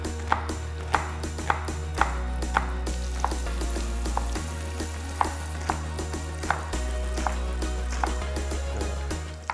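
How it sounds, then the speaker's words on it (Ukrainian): A knife chops an onion on a board at a steady, even pace, each crisp cut close and distinct, over the continuous sizzle of sausage frying in a pan nearby. "Нам треба цибулька для піджарки. Наріжемо її."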